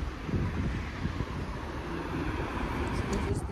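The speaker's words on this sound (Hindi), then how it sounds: "बहुत हवा चल रही है बहुत ठंडा मौसम हो रहा है" Strong, cold wind blowing outdoors in Manchester, a steady broadband rush buffeting the microphone with gusty low rumble throughout.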